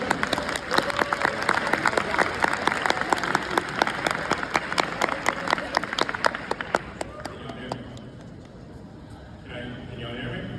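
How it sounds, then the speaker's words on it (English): Audience applause welcoming Mr. Elijah Birch to the stage, a dense, loud round of clapping with scattered cheers that thins out and fades after about seven seconds. "if you could please, with a warm round of applause"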